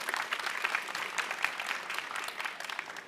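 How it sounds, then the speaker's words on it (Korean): A seminar audience applauds steadily to welcome a speaker, dense even clapping throughout at moderate level with no talk over it. "장성은 대표님의 이야기 박수로 청해 듣겠습니다."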